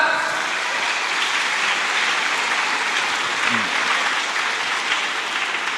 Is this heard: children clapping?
yes